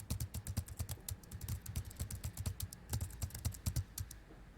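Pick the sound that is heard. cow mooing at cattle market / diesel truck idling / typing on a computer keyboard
typing on a computer keyboard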